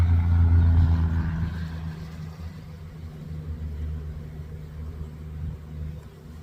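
A loud truck drives by near a beehive, its deep engine rumble strong at first and then fading into a softer, steady outdoor background.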